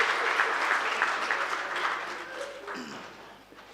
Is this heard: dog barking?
no